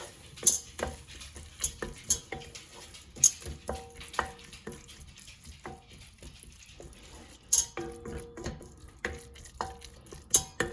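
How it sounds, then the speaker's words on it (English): Tomato puree being stirred into a vegetable soup in a pot, repeated sharp metallic spoon clinks and scrapes against the pan over a faint low sizzle, no speech. "I'm going to add in 2 tablespoons of tomato puree and give that a good mix."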